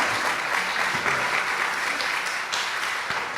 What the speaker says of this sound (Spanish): dele un aplauso fuerte al Señor